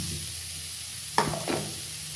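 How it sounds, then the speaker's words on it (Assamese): Coconut and flattened rice fry in a pan over a high flame, a low steady sizzle punctuated by two brief scraping stirs near the middle. "প্ৰথমতে হাই ফ্লেমতে মই ভাজিম"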